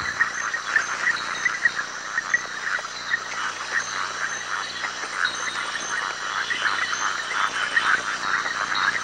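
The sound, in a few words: red-eyed tree frogs calling in lowland swamp forest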